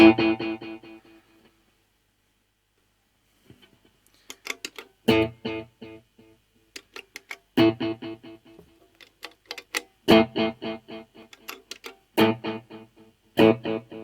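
Several short guitar phrases through a Visual Sound Dual Tap Delay pedal, each followed by a train of loud, rhythmic echoes that keep repeating before fading, with brief pauses between phrases.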